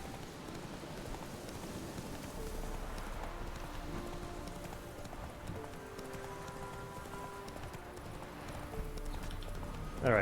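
In the game The Witcher 3, the horse Roach's hooves clop in a steady rhythm over soft ground under rain, faint and continuous, with ambient game sounds around it.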